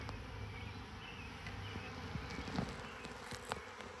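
A honeybee swarm clustered on a branch hums as a steady, faint buzz, with a few sharp handling knocks and taps close by as the queen is placed among them.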